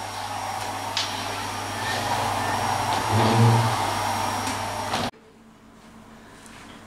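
A household vacuum cleaner runs in a home kitchen with a steady, loud whirring roar that cuts off suddenly near the end. A person speaks briefly over it.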